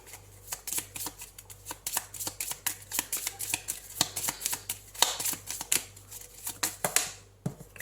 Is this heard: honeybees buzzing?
no